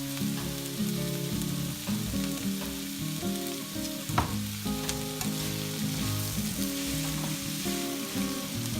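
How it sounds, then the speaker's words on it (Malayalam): Onions and garlic sautéing with curry leaves in a pan for Kerala-style egg roast, a steady close sizzle with occasional spatula scrapes and a brief clink midway, no voices. "സവാള, വെളുത്തുള്ളി എല്ലാം ഒന്ന് നന്നായി വഴന്ന് വരുന്ന വരെ നമുക്ക് വെയിറ്റ് ചെയ്യാം"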